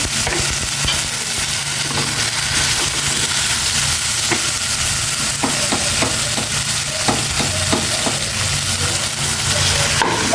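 Lechon with garlic sizzles and fries in a pan, a steady hissing crackle with scattered scrapes and clacks of stirring throughout, close and loud with no talking.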